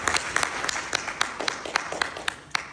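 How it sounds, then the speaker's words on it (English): A small audience claps at a fitness and finance talk, a sparse, irregular patter of individual hand claps rather than a full roar, moderately close and fairly quiet, with a voice faintly beneath. "Round of applause,"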